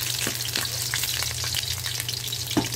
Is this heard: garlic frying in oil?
yes